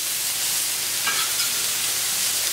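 Veal kidney skewers finishing gently in a pan, set toward the cooler edges, give off a steady, even sizzle and crackle throughout, close by with no voices.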